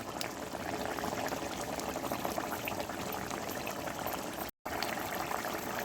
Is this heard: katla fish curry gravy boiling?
yes